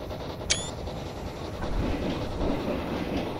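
The steam locomotive Invincible pulls away with a brief sharp whistle-like squeal. A steady rumbling, clattering rail noise follows and swells slightly as it gets moving.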